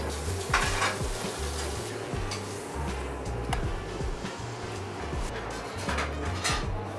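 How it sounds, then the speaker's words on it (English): Bread and marinated Patagonian baby squid grill in a restaurant kitchen, giving a constant low sizzle with scattered clinks and scraping of pans and utensils throughout. "So what we are doing, we grill the bread."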